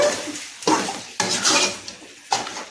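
A metal spoon scrapes and knocks inside a pot of biryani gravy, three distinct stirring strokes with clanks, close and fairly loud.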